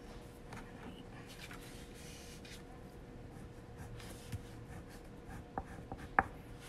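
Colouring on paper laid over a tabletop while finishing shadow artwork: a steady, soft scratchy rubbing of the drawing tool runs throughout, with a few small taps near the end.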